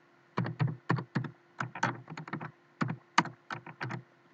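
Keys clatter on a computer keyboard as C code is typed, in quick bursts of clicks separated by short pauses, close and fairly quiet with no voices.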